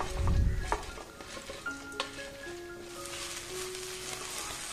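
Fried young jackfruit is stirred into sizzling masala in a pan, with a few scraping strokes and clinks over a soft steady sizzle, quiet and close.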